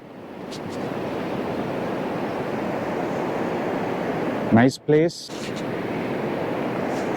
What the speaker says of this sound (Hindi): लहरों की आवाज़ों में एक अलग सा एनर्जी, एक फील होता है, वाइगर होता है